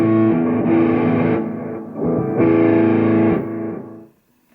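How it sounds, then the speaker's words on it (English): Electric guitar played through a Zoom G3Xn multi-effects pedal with drive and echo engaged, two sustained distorted strummed chords with a thick echoing tail, ringing loud and close before fading out. "I need to enable drive and echo"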